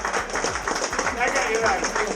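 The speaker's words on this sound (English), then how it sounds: "Big round of applause for Wayne Bartholomew" A crowd at a match fishing event prize-giving claps for the winner in a brief burst of close applause, with someone talking over it.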